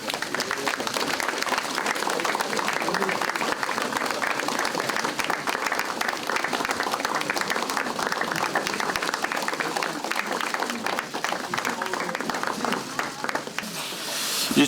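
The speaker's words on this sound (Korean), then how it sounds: "박수 한번 칠까요?" An audience at the launch ceremony of a cross-party political reform caucus of lawmakers applauds in a steady, dense clapping that holds for about fifteen seconds at a moderate level.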